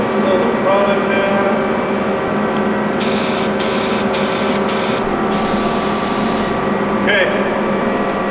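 Bursts of hissing paint from a spray gun coating a Ford truck frame start and stop in a stuttering rhythm over a steady mechanical hum, with a brief spoken word.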